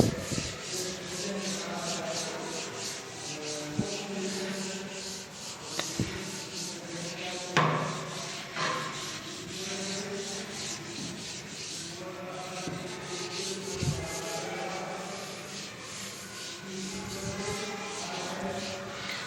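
A teacher rubs a classroom board clean with repeated scrubbing strokes, a soft rhythmic rubbing with a few knocks and bumps in between, close by and moderately loud, with no talk.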